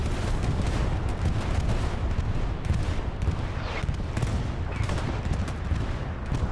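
Artillery bombardment in the Hell Let Loose war game: a dense, continuous barrage of overlapping booms and crackling impacts over a heavy low rumble, loud and unbroken.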